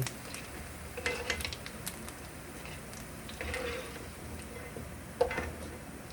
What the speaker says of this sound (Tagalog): magigisa na ng sibuyas